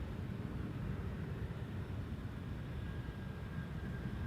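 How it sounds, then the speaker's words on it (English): An Airbus A321neo arriving at Schiphol on the Polderbaan produces a steady, low distant jet roar, a faint continuous rumble with no talk. "Irish registered. A321 Neo with a nice spacious cabin in the back."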